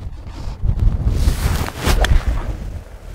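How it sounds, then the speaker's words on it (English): Gusty wind buffets the microphone on an island golf course on the Isle of Harris, a steady rough rumble that swells and eases, with a stronger gust about two-thirds of the way through and no talking. "The wind's picked up."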